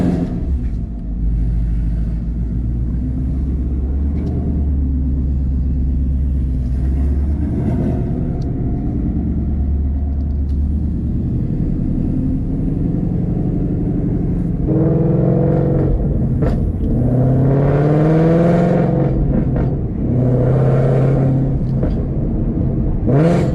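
Loud V8 exhaust of a Ford Mustang GT with catless longtube headers and a Corsa Extreme catback, rumbling at idle, then revving up several times in rising and falling bursts, close and deep throughout.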